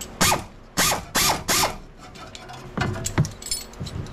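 A ratchet wrench works on a gas-powered 1996 Club Car DS golf cart near the starter generator, giving sharp metallic clicking bursts: four quick loud runs, a pause, then softer rattling ratchet clicks, close up with no voices.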